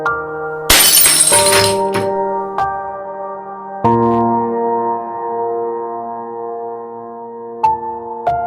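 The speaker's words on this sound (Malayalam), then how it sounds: "ആ ഗ്ലാസ് അങ്ങോട്ട് കാട്ടിക്കളയാ." A drinking glass thrown and shattering, one loud crash of breaking glass followed by long ringing metallic tones and a few further clinks as pieces settle, with no voices.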